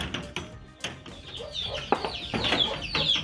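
Aseel hens clucking inside a coop, a close series of short, uneven clucks and calls that grows busier and louder toward the end.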